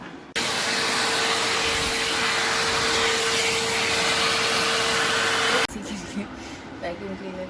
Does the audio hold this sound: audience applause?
no